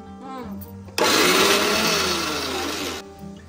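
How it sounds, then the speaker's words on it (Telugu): A kitchen mixer grinder whirs loudly for about two seconds as it grinds grated coconut with salt and chili powder for Kanchipuram idli, then cuts off sharply. A voice is heard faintly just before it starts. "ఇవి మిక്సీ చేసిన తర్వాత అప్పుడు ఆనియన్స్ వేసేస్తాం. ఆన్ అండ్ ఆఫ్ అక్క."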